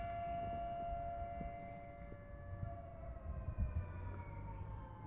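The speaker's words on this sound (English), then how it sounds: "that to me sounds like an air raid siren" An air raid siren wails faintly from afar, a long steady drawn-out tone hanging over quiet outdoor background noise with soft low rumbles and occasional knocks nearby.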